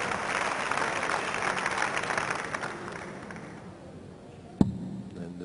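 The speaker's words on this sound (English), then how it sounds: "He'll get applause for that." Darts crowd at the 2004 World Masters applauding after a near nine-dart attempt, a steady broad wash of clapping that fades gradually, with a single sharp knock near the end.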